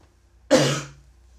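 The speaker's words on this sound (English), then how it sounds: "Sorry about the coughs as well." A single close, sharp cough or throat-clearing burst, brief and alone against near silence.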